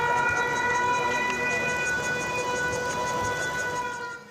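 An air raid warning siren sounds during the Han Kuang 41 military exercise around Taipei and New Taipei. It is a loud, sustained, steady wail that holds its pitch through the whole stretch with no break.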